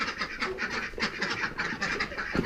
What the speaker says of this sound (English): Come here, Ducky Doos.